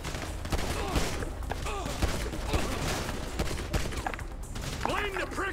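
Pistol shots in Grand Theft Auto V sound as several sharp reports over busy game noise, with a voice talking across the shots.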